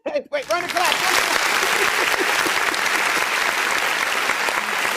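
A canned applause sound effect plays during a birthday livestream, opening with a brief voice before a dense, steady wall of clapping fills the rest of the stretch at full volume.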